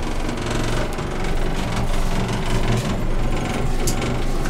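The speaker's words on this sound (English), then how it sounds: "That fan sounds obnoxious" A noisy fan whirs inside a 1987 GoldStar traction elevator car at Lai Sun Commercial Centre in Kowloon, Hong Kong. It gives a loud, steady, close rattling drone with a fluttering, uneven texture throughout.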